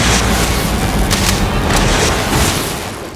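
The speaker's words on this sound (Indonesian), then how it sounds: "Akhirnya setelah Danny menembak tabung gas yang dilemparkan ke arahnya, dan disusul dengan tembakan Junior" A loud gunshot hits a gas cylinder, followed by a booming blast, with heavy rumbling and sharp cracks layered together, close and intense, in a film scene.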